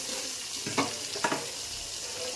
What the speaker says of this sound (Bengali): এই 5 পিস ভাজা হয়ে গেছে, আর 3 পিস ভাজছি।